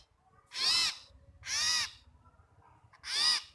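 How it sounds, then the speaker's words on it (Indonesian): Three loud, raspy screeches from a nearby sirtu (cipo) owl-like bird, evenly spaced with short quiet gaps between them. "ini burung sirtu"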